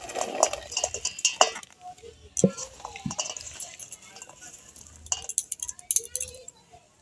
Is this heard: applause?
no